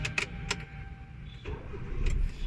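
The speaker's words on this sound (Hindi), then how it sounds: "अभी मैं आपको देखो स्टार्ट करके दिखाता हूँ गाड़ी" A Hyundai i20 car engine starts after a 70,000 km service, with a couple of sharp clicks first, then a cranking catch around the middle and a low idle rumble settling in, fairly quiet and close.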